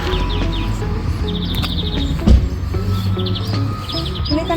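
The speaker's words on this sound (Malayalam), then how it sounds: "സോ ഒന്ന് ഫുൾ കിളികളുടെ സൗണ്ട് കേൾക്കാം" Birds chirp outdoors in short, rapid trills that recur at moderate distance, set against a steady low rumble and hum with a brief thump midway.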